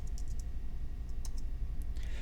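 Someone types a command on a computer keyboard, producing a few sparse, light key clicks in small bursts over a low background hum.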